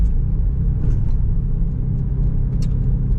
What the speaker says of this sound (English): Look at all that traffic.